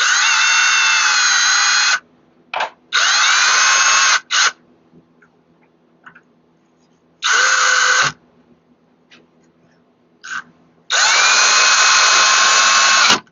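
A power drill drives a screw into a magnet strip in a workshop: loud, close whirring bursts that start and stop several times, with short blips and quiet gaps between them.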